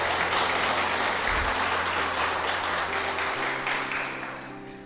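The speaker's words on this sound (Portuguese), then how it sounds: "Agora você aplauda ao Senhor." Church congregation applauding during a sermon, a steady wash of many hands clapping, loud and continuous before gradually fading toward the end.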